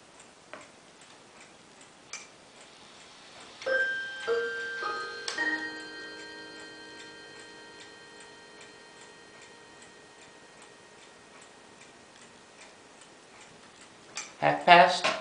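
A Bulova chime clock plays a short quarter-hour melody of a few soft bell notes that ring out and decay over steady quiet ticking, close by and faint.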